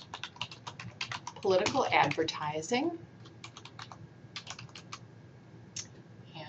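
Rapid clicking of keys on a computer keyboard, close and crisp, pauses briefly while a person speaks a few words, then resumes in quick bursts.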